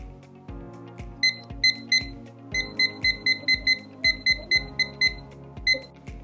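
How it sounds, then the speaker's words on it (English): A kitchen timer is set for 15 minutes for a home COVID-19 test, giving a quick series of short, bright electronic beeps at irregular intervals over a quiet background. "Next is to set a timer for 15 minutes."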